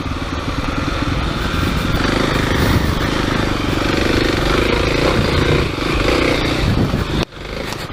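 Kawasaki KLX300 dirt bike ridden hard over rutted trail at Highland Park Resort, its engine droning loud and steady with constant clattering and thumping from the rough ground, cutting out briefly near the end.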